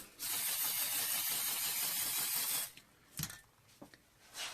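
Clear coat sprayed from an aerosol can during spray-paint art, one steady close hiss of about two and a half seconds followed by a few faint clicks.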